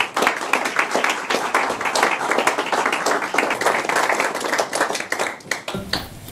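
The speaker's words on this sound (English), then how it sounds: "please welcome our speaker, Dr. Peter Carter, OBE, with warm Rotary applause" Rotary club audience giving warm applause to welcome a guest speaker, dense sustained clapping from many hands that stays strong for several seconds before dropping off abruptly near the end.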